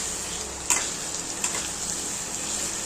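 Soybean chunks fry in hot spiced oil in a pan, giving a steady, close hiss with a couple of brief stirring clicks and no talking.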